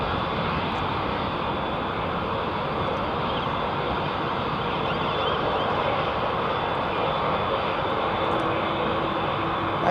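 A Boeing Dreamliner or 777 jet airliner moves at Heathrow, a steady, fairly quiet broadband engine roar holding evenly throughout with no talking.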